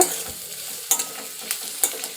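Onions sizzle in a hot pan while a spoon scrapes and stirs, with a few sharp clinks of metal against the pan.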